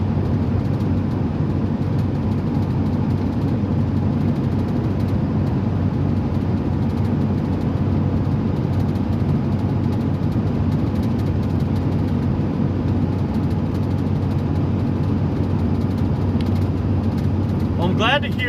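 A truck rumbles steadily along a rough, bumpy road, heard from inside the cab as a constant loud low drone with road noise throughout, and a brief voice comes in near the end.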